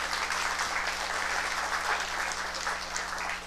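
A church congregation claps steadily and loudly together, a dense, continuous wash of applause with no voices standing out above it.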